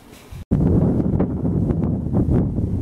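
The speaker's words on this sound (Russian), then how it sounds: "а то как раз ветер нам в лицо" Strong wind buffets the microphone at a lakeside camp, a steady low roar with gusting swells after a brief cutout near the start.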